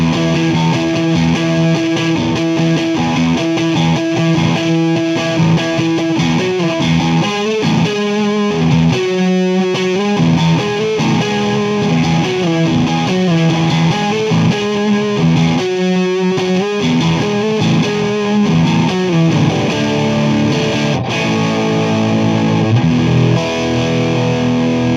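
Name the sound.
Billy Corgan Reverend electric guitar played on both pickups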